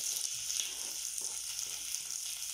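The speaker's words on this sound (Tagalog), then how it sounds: "Lagyan natin yung ating yung ating sibuyas." Chopped onions frying in a pan over lowered stove heat for a Filipino dish, a soft, steady hiss of sizzling oil with a few faint stirring scrapes, heard alone at low volume.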